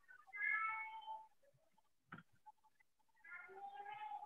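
Two soft meows from the cat sprite in a Scratch-style kids' coding program, set off by pressing the space key, separated by a faint click, quiet and alone.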